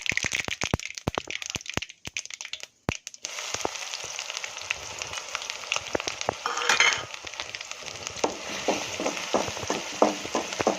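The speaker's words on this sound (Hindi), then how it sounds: "पियाज को भल भाव भाजवा, तार कलर चेंज होगा पर्यंत।" Onions fry in hot mustard oil for village-style fish besara, a loud, close, continuous sizzle with crackles and occasional stirring clicks and scrapes from the pan, with no talking.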